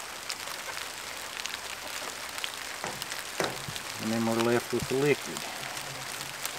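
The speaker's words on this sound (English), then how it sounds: "As you can hear, it started raining on us." Rain falling outdoors, a steady soft patter of drops on surfaces that continues beneath someone talking nearby.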